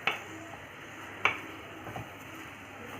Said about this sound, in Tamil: ஸோ இது வந்து கிளறி விடு